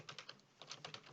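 Keys on a computer keyboard are tapped to type a channel name, a quick run of close, crisp clicks in two short bursts separated by a brief pause, with no talking.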